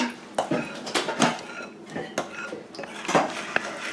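Ingredients for grandma's light rolls, including warm milk, being mixed in a bowl, giving repeated clinks and scrapes of a utensil against the bowl in an uneven rhythm, close and moderately loud.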